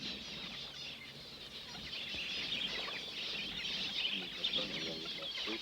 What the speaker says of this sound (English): already the birds have found the water